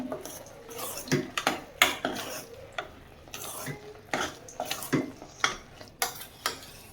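A spoon scrapes and clinks against a pot while a mushroom biryani mixture with lemon juice is stirred, giving repeated irregular metallic strokes over a faint sizzle.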